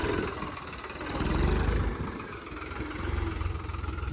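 A tractor engine runs steadily on a slippery slope, its low mechanical drone swelling and easing slightly as the load changes, close by with no talking.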